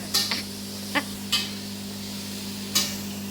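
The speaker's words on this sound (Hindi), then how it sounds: "पहले फ्राई हो रही है गोभी और आलू।" Cauliflower and potato fry in a pan with a low steady sizzle, punctuated by about five sharp clinks and scrapes of a utensil against the pan.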